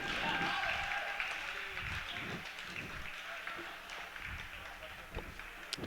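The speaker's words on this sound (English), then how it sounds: "Everybody applauding him as he gets up" Faint, distant applause from spectators at a junior varsity ice hockey game, a soft and steady patter of clapping in a large rink that fades slightly toward the end.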